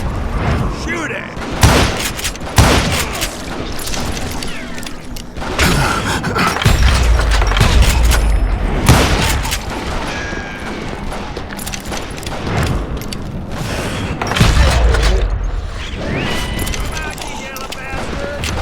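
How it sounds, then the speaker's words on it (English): A Gatling gun fires in the Western shooter Call of Juarez: Gunslinger, a loud, dense barrage of rapid shots mixed with heavy booms and thuds, rolling on without pause for the whole stretch. "Kid Curry opened up on me with a goddamn Gatling gun"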